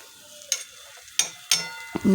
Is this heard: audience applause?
no